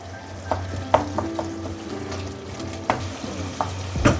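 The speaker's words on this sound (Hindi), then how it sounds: "अब इसको थोड़ा सा इसमें भून लेते हैं, मैश कर लेते हैं।" Cooked tinda (apple gourd) sizzles in a pan while being stirred and mashed, with a low frying hiss under intermittent knocks and scrapes of a spoon against metal, ending with a louder clatter.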